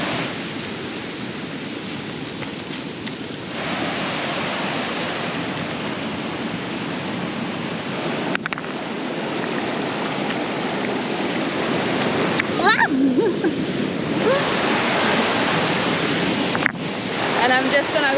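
A raging Arctic river rushes in a steady, loud roar of churning water that fills the whole stretch, with wind buffeting the microphone and a few brief knocks near the end.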